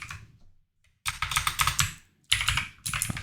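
Quick bursts of typing on a computer keyboard, close and crisp, with brief pauses between the clattering runs and no talking.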